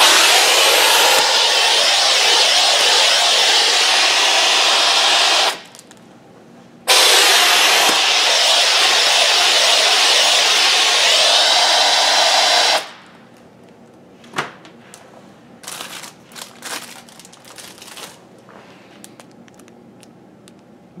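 A Piab vacuum gripper picks and places frozen packaged sliders in 48 mm bags, giving a loud, steady rush of suction and air that cuts off briefly twice, then settles into quieter scattered clicks and bumps of handling.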